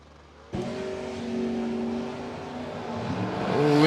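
Drag race cars launch suddenly and accelerate down the strip, loud engine tones holding steady, then climbing in pitch as the revs build toward the end.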